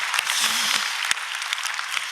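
A church congregation gives a round of applause to God, a soft, even stretch of many hands clapping at moderate distance with a brief low voice near the start.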